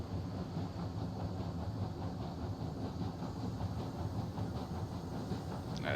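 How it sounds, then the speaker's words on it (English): A steam locomotive in the video game Railroads Online chugs steadily along the track, a continuous rhythmic puffing and rumble at moderate distance, fairly quiet and alone with no talk. "Listen to him chug."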